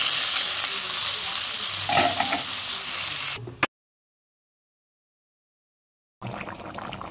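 Chicken hitting hot oil with tempered spices crackles in a loud, dense sizzle with stirring, then cuts to silence for about three seconds before the frying resumes.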